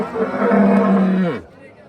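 A single long, loud cow moo with a rich low drone that falls off sharply at the end, followed by quieter background noise at a livestock market in Kattakurgan, Samarkand.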